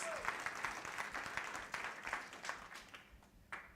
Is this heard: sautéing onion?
no